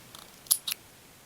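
Scissors snip leftover yarn from a crochet granny square: two quick, crisp cuts close by in a quiet room, with no talking.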